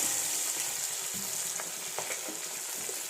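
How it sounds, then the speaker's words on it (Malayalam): Garlic, ginger and green chilies frying in a pan, a continuous close hiss and sizzle with light crackles and stirring scrapes. "വെളുത്തുള്ളി ഇഞ്ചി പച്ചമുളക് എല്ലാം കൂടെ അങ്ങ് ഇടുക"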